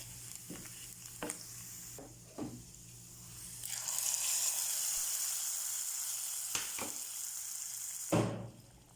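Roasted coconut is poured into an elephant foot yam curry, and a steady sizzling hiss swells up and holds for several seconds, with a few sharp stirring scrapes before and after. No one speaks.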